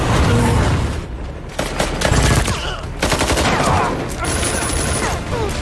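Dense gunfire in a film firefight as rescue soldiers return fire against a sniper with a helicopter arriving: rapid overlapping shots and bursts fill the whole stretch, loud and chaotic, with heavier booming hits mixed in.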